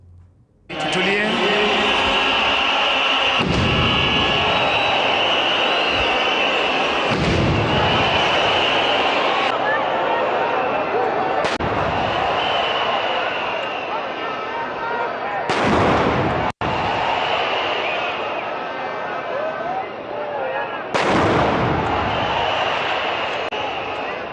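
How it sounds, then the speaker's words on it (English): A 21-gun salute at a presidential inauguration outside Nairobi: loud, heavy booming artillery blasts fire one after another at spaced intervals, each rolling out into a long echo over an open outdoor crowd. "Prayers and 21 gunshot salutation was made in honor of the newly sworn-in president."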